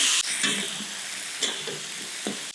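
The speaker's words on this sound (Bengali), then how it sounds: "ফুলকপিগুলো একটু ফ্রাই করে নেব" Cauliflower florets frying lightly in a pan of oil give a steady, loud broadband sizzle with a few stirring scrapes and clatters across it, heard alone without any voices.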